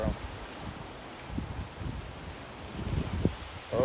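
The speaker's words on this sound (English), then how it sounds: "Okay, we got another gust of wind. It's aggressive again. My trees are being aggro." A gust of wind sweeps through trees and ferns on a windy morning in LA, giving a soft, steady rustle with a few louder surges near the end.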